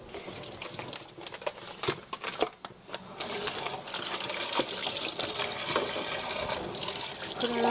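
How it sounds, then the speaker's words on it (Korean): Tofu being washed under a running kitchen tap, with a steady rush of water and splashing that breaks up briefly early on and then settles into continuous flow. "흐르는 물에 깨끗이 씻어 주시고요"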